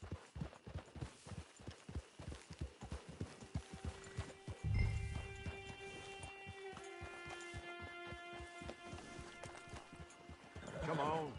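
Horse hooves pound in a quick, steady clip-clop gallop with a low whinny partway through, under a soft musical drone, in the video game Red Dead Redemption 2.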